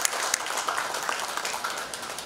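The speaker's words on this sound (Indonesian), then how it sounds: "Tepuk tangan sekali lagi untuk Bapak Kapolri." An audience applauds for the Indonesian National Police chief at the grand opening of an international ferry terminal, a steady wash of clapping hands held at moderate loudness.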